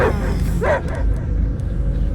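Cosmo the dog barks in the video game Marvel's Guardians of the Galaxy, a couple of close, loud woofs and yips over a low droning background.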